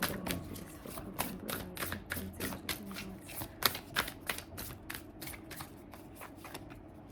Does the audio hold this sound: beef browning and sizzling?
no